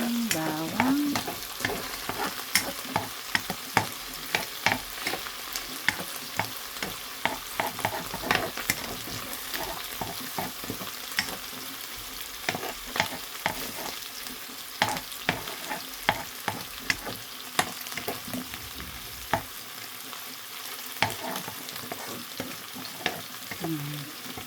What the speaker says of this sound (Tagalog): Para maluto na yung bawang.